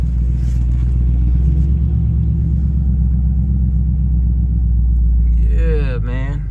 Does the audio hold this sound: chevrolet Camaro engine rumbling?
yes